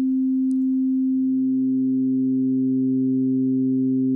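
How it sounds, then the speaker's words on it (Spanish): A steady electronic oscillator tone hums continuously, and after about a second a lower sideband tone joins it as a second oscillator modulates its amplitude, giving a sustained, evenly modulated drone. "utiliza una señal, en este caso está utilizando otro oscilador, para modular la amplitud del primero"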